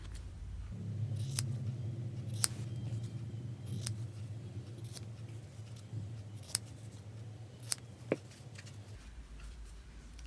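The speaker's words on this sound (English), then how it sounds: "I just cut the stitching off." Scissors snipping stitching off fabric scraps while sewing a snap closure project bag, a series of sharp, scattered clicks over a steady low hum, fairly close and with no one talking.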